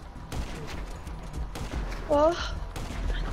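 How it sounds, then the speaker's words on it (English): Rapid bursts of gunfire and rumbling blasts from GTA Online, with a person's brief exclamation over the noisy barrage. "Explosions!"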